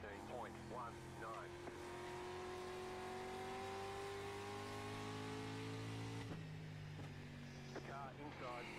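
Street stock race cars at Lanier National Speedway in iRacing, an engine droning and climbing steadily in pitch under acceleration before a sudden drop as it shifts, with voices talking over parts of it.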